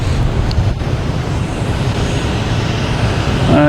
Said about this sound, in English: Yes, that is British Airways Flight 213.